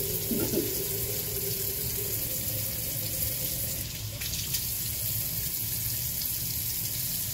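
Tap water runs steadily into a sink during face washing, a continuous close splashing hiss that holds through the whole stretch with no talking.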